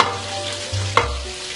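Carrots and onion go into a pan on full heat for prawn fried rice, a close sizzle with low rumbling stir-fry scrapes and one sharp clatter midway, no talking.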